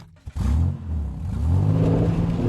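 Inside a moving car, a steady mid-pitched engine hum and whir with light clatter, starting after a brief thump and holding loud and constant.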